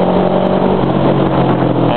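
Cars racing along a Taipei road, heard as a steady, loud engine roar with continuous traffic noise that holds throughout without a clear pass-by peak.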